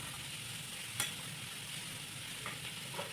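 Ingredients sizzle steadily in a pan with salt and turmeric while chow mein is being prepared in a dark kitchen during a power cut, with a few sharp clinks of stirring.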